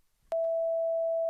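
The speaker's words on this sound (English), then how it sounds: "If I patch the output of this sine wave into the audio output," A Bitwig Grid synthesizer sine oscillator patched to the audio output produces a loud, perfectly steady pure tone that begins abruptly after a brief quiet start and holds unchanged to the end.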